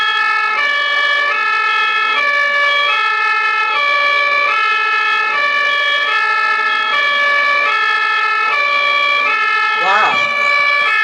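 An ambulance siren on a German road, a loud two-tone wail alternating steadily and close by, ending with a brief swooping tone shift near the end.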